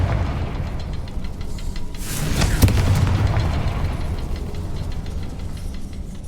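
A Confringo fire spell bursts in Hogwarts Legacy, a single heavy boom swelling from a steady low rumble and peaking with one sharp crack before trailing off into rumbling game ambience, with no voices.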